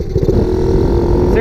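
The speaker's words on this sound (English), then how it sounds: "This is the turbo at idle." Electric turbo idling on a pocket bike, a steady whirring hum with a droning engine beneath, a voice talking over it and a rising whine at the very end.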